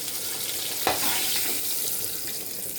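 Soft frying sizzle of an egg in hot oil in a home kitchen, faint and steady, with one brief clink or scrape near the start.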